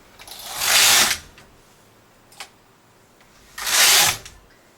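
A domestic knitting machine carriage knitting a row across a short-row intarsia piece, two loud rushing swishes a few seconds apart with a faint click between them, no talk.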